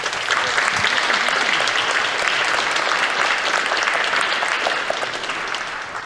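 Big audience applause at a Berlin convention, a long, dense wash of clapping from a large crowd that holds steady and then tapers slightly near the end.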